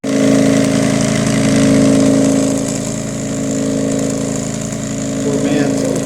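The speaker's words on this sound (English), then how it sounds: "Poor man's ultrasonic cleaner here. My garage sale brass polisher." A garage-sale vibratory brass polisher cleaning screws in rubbing alcohol. It gives off a loud, steady mechanical hum and drone that holds at an even level throughout, close by.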